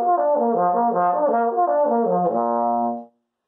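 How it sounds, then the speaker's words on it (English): A bass trombone plays a lip slur exercise in first position, gliding smoothly up and down through the harmonic partials in rounded, connected phrases, loud and close, alone, ending on a held low note that cuts off. "a very famous trombone exercise that works on lip slurs and going through the different partials that sounds like this"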